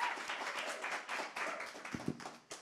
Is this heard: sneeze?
no